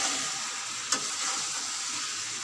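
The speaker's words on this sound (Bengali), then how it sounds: "মাংসটা রান্না হচ্ছে বন্ধুরা" Meat cooking in a pan in a home kitchen gives a steady close sizzle with one brief clatter near the start, and no one speaks.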